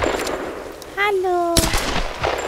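A single sharp, loud gunshot in the video game Tomb Raider cracks out after a brief rising electronic tone, followed by a short echoing tail.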